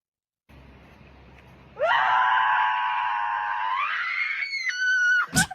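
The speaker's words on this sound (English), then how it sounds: "she releases with a giant scream" A woman in the woods lets out one giant, sustained scream, loud and close. It starts low, holds for a few seconds, rises in pitch and then breaks off, with no talking over it.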